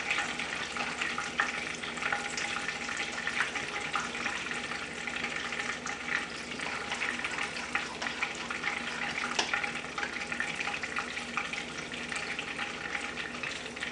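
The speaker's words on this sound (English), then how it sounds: "Now the cumin seeds have been frying for at least 2 minutes." Cumin seeds fry in oil, sizzling and crackling continuously with a busy, spattering texture, steady and close throughout, no voices.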